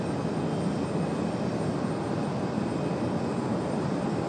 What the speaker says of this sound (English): hopefully you guys enjoyed that A330 departure